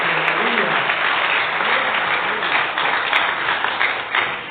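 A church congregation applauds steadily, a dense wash of clapping that fills the whole moment, with a preacher's voice faintly audible underneath.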